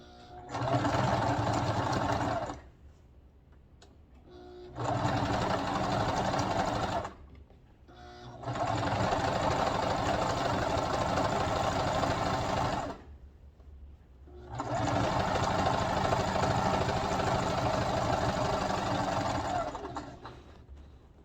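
A sewing machine stitches a straight seam along one side of a pillow in four steady bursts of whirring, each a few seconds long, separated by short pauses and heard up close with no talking.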